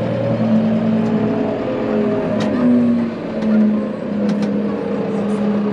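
A farm tractor's engine runs while hitched to a manure spreader, making a steady, loud diesel drone with slight swells in revs and faint mechanical clatter, heard alone with no talk.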